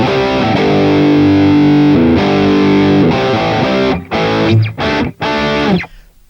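An electric guitar played through a Boss Katana MK2 amp on basic settings chugs heavily distorted chords loudly, with sustained riffing broken by short choppy stops near the end.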